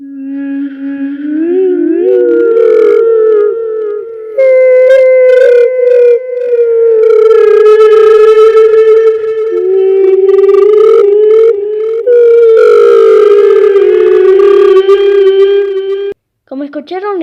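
Eerie wailing cries attributed to the creature The Wandering Dark rise and fall in long, siren-like and whale-like tones, loud and slightly distorted, with a brief gap near the end.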